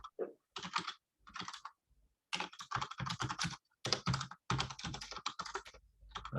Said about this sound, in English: Just typing on the MacBook.